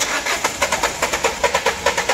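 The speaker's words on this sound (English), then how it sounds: "So this is how the vehicle cranks" A diesel vehicle's starter cranking the engine with no fuel so it never catches, a fast, even rhythmic churn of about a dozen loud compression pulses, close up and uninterrupted.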